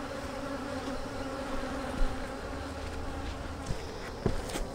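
Honeybees buzz at an open hive while it is being split, a steady, close, droning hum with a few soft knocks from the hive work.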